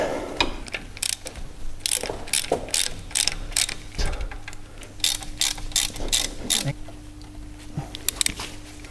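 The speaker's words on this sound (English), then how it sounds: "I'm going to try with the ratchet first." A ratchet spins in repeated bursts of rapid clicking while undoing the brake caliper bolts on a Mitsubishi L200 pickup, close and loud, with short pauses between strokes and a low steady hum underneath.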